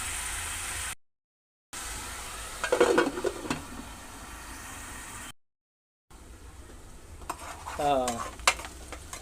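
Onions frying and being stirred in a pan for a gongura and raw prawn curry: steady close sizzle with scraping stir strokes, broken by two short silent gaps.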